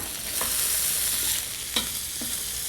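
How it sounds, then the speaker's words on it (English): Steady sizzling of cauliflower, celery, green peas and red peppers sauteing in a hot pan, with a few scraping stirs of a utensil cutting through the frying hiss. "we're going to saute these up here for about a minute or so"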